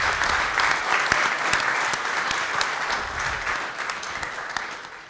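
Steady, dense applause from an audience at a book presentation honoring the author, a full room clapping continuously for about five seconds.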